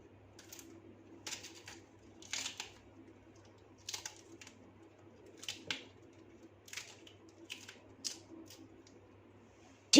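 Green chillies being sliced with a knife for a raw mango chutney, heard as a steady series of faint, crisp taps on a board, evenly spaced and close, with no talking.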